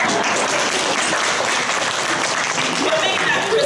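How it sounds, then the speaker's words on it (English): An audience applauds at a small gathering, a continuous burst of clapping from many hands with some voices mixed in. "Can we get a round of applause?"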